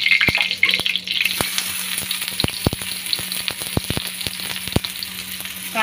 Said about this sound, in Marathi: कांदा गोल्डन कलर होईपर्यंत आपण फ्राय करून घेऊ